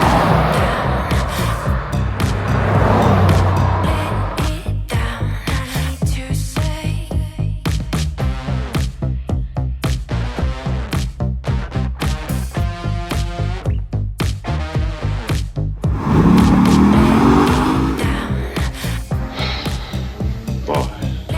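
A C8 Corvette Stingray is driven with a continuous low engine drone and rhythmic pulsing throughout. The pitch climbs briefly as it accelerates about three-quarters of the way through, then settles back to a steady cruise.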